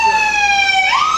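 A police car siren wails loudly and up close during a stop of robbery suspects in a stolen car, holding a steady tone before sweeping upward near the end.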